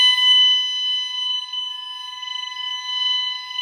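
A Vigilon fire alarm sounder gives a loud, continuous high-pitched electronic tone with steady harmonics, holding without a break from start to finish and heard alone.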